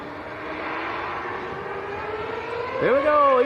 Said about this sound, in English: Here we go, EasyJet on the roll.